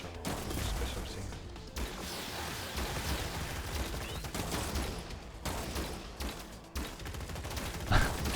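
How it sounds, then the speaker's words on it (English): Rapid gunfire bursts from a blue shotgun in the robot combat game Gladiabots during a tournament finals match, a dense, continuous crackle of shots with brief pauses, loud and close. "This shotgun, this blue shotgun is really trying hard to hit someone"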